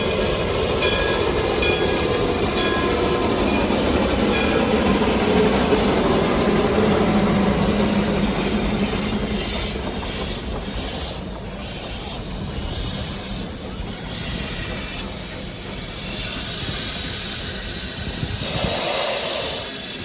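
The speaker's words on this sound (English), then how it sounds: "We got there early enough to see the steam train coming in" A steam train rolls in close by, with steady hissing, chuffing and rumbling wheels that build and shift over a long, continuous stretch.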